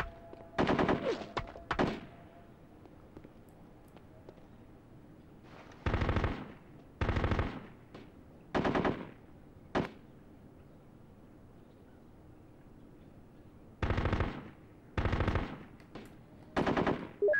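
Bursts of automatic gunfire in the Full Spectrum Warrior war game, with a few quick shots at first and then several short, loud volleys separated by quiet gaps.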